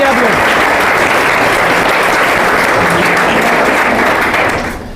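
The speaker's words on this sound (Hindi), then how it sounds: "एक बार ताली बजा दीजिए आप लोग।" Loud, steady applause from an audience at a school farewell ceremony for tenth-grade students, sustained dense clapping for about five seconds before tapering off at the end.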